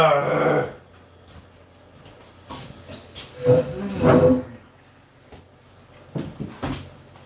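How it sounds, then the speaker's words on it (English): A home oven door opens with a clunk and steam hisses out in short bursts, with voices and kitchen noise in between. "I opened the door to the oven."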